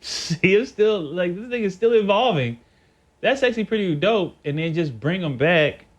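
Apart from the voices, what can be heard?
No everyday noises stand out.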